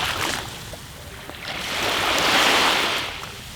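Sea waves rushing up the shore, a broad roaring wash that builds to a loud surge midway and then recedes, heard alone with some wind.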